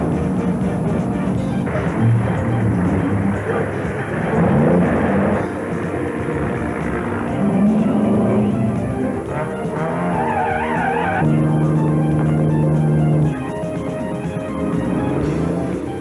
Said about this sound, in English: It's the drag races of the 18-wheelers.